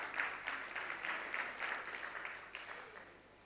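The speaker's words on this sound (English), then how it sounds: "Can we have a huge round of applause for him," Faint applause from an audience at a Motorola Razr 40 phone launch event, a soft wash of clapping with a gently pulsing rhythm that slowly dies down over a few seconds.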